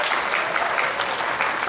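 Dense, steady audience applause, loud and close, filling the short stretch without pause or voices over it.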